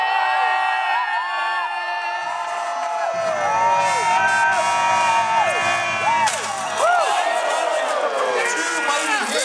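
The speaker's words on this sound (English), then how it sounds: "The louder you cheer, the harder they hit." Crowd at a jousting match cheers and whoops, shrill excited voices including children rising and falling over several seconds, with a louder burst partway through and shouts layered on top.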